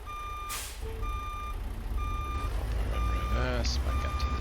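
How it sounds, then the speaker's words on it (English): Steady evenly spaced reversing beeps from a Peterbilt 389 truck in American Truck Simulator, backing up to a trailer over a low engine rumble, with a brief air hiss and a voice speaking partway through. "In reverse, back up to this trailer."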